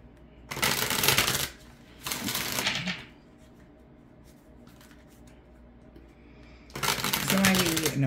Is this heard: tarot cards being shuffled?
yes